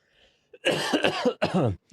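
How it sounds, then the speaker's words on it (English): A single fit of harsh coughing, several rapid hacks in a row, close to the microphone, with a short pause before a final burst. "That's my Canadian cough."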